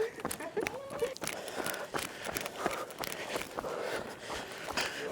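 Quick footsteps of people running about 3 kilometres in laps on a hard surface during military training, a steady rhythmic patter close by, with faint voices in the background.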